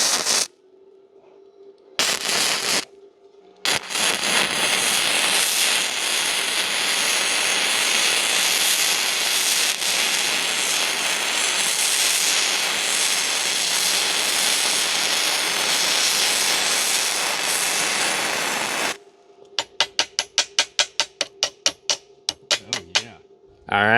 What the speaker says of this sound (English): It didn't have any problem welding that. Probably should have gone a little slower, but it had plenty of heat to weld that thick steel.